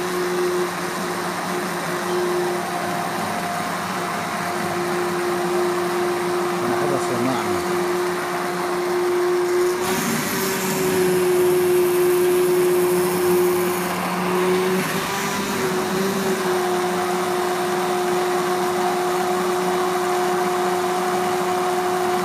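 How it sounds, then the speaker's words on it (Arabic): An electric mixer beats rice with sugar and cardamom for Iraqi zarda, a continuous loud motor whir with a steady tonal hum that briefly changes pitch and intensity midway as the beaters work the mixture. "اضربها بهذا المضرب حتى شنو التمن تروح حباته"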